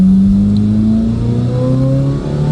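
Corvette engine with open exhaust revving loudly and close, its deep drone rising in pitch through a sustained pull with no voices.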